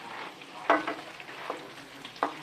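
Shrimp sears with garlic in a pan over high heat, a steady close sizzle with a few sharper scrapes and clacks as it is stirred, no voices.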